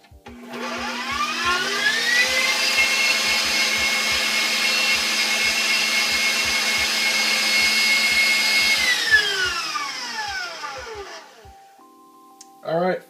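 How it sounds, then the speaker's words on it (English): A stand mixer whirs steadily as it beats eggs and sugar, starting up, holding a constant motor whine for several seconds, then winding down, with a faint rhythmic ticking underneath and a brief clatter at the end. "This is why the stand mixer is really good."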